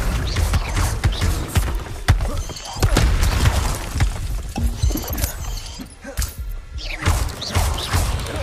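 The Accio summoning spell goes off in the Hogwarts Legacy video game as a burst of magical whooshes and crashing thuds, with dense, loud layered impacts that continue throughout.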